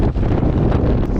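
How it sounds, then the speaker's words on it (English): Loud, continuous wind buffeting the microphone in the Azores Islands, Portugal, a rough roaring rumble with no voices. "Remember how I said it's windy here?"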